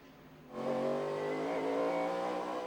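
NASCAR race trucks at the 1997 Topeka race accelerate on track, engines climbing in pitch as RPMs rise after a quiet lead-in, a loud sustained roar with harmonic whine.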